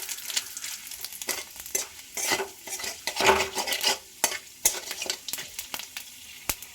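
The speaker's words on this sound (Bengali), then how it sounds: "দুটো এলাচ দারচিনির টুকরো শুকনো লঙ্কা তেজপাতা আর গোটা জিরে হাফ চা চামচ ফোড়নটা ভালো করে রেডি করে নেবো" Whole cardamom pods, a cinnamon piece, dry red chillies, bay leaves and cumin seeds sputter in hot oil, with steady close sizzling broken by frequent sharp scrapes and clicks of a spoon stirring in the pan; no voices.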